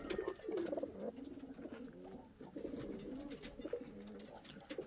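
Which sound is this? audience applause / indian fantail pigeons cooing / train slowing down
indian fantail pigeons cooing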